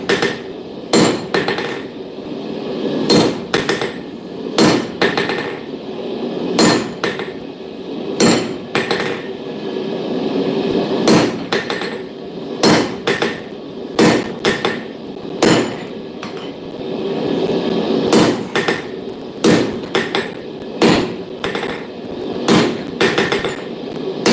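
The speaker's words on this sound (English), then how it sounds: "So I'm just going to hot cut the bottom off this rivet header." A blacksmith hammers a hot cut to trim the bottom off a forged rivet header, sharp metallic strikes landing in quick irregular runs throughout, loud and close with ringing between blows.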